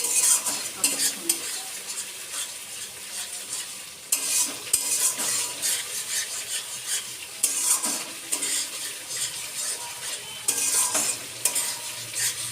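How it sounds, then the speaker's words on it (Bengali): Paneer masala stirred and fried in oil in a pan, a steady close sizzle under repeated scraping strokes of a spoon against the pan, continuing without talk. "ততক্ষণই নাড়তে থাকবো যখন তেলটা ছেড়ে দেবে,"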